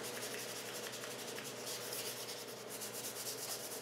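Light hand sanding of a finished wooden dovetail keepsake box with 320 grit sandpaper between finish coats, a soft, steady, close scratching rub with quick back-and-forth strokes.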